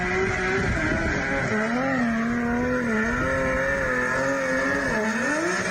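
Race cars roar past as a G35 chases down a Corvette C7, one steady loud engine note with rising and falling revs sweeping through the gears across the whole stretch.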